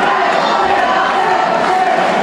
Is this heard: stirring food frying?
no